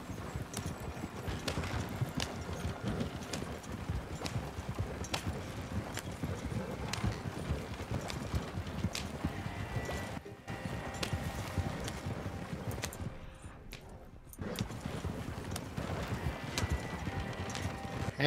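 Horse hooves pulling a carriage in Red Dead Redemption 2 clip-clop in a steady running rhythm, with wheel rumble underneath and occasional faint voices.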